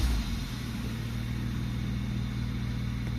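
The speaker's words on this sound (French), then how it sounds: "Je vais mettre le véhicule en route." A BMW car with the N54 engine running steadily, a low constant engine drone with a slight start-up bump at the very beginning and no talk over it.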